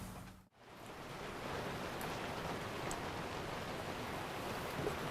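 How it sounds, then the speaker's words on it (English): Steady, hissing patter of rain coming down on the roof of a workshop, a soft continuous wash heard from indoors, faint and unbroken apart from a brief dip at the start. "listen to that rain come down on the roof"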